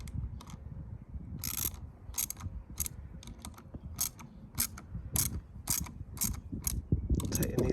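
Fittings on a motorcycle mirror mount being tightened with a wrench give off short bursts of sharp ratcheting clicks at irregular intervals, close and fairly quiet, over a low background rumble.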